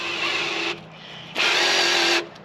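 Cordless drill spinning up in a workshop during a Chevy 327 engine rebuild, two loud steady whirring bursts separated by a short pause, heard close with no talking.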